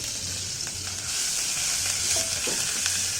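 Garlic and ginger sizzle steadily in a hot pan as cooking for meat and biriyani begins, a continuous bright frying hiss with faint stirring clicks, close and unbroken, with no talking.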